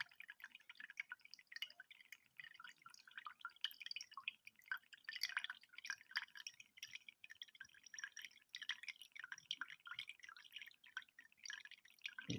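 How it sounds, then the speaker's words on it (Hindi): Coconut water dripping steadily into a glass, a continuous patter of small quick drips, close and fairly quiet, with no talking. "देखिए पानी निकल रहा है इसका, सारा पानी निकल आएगा"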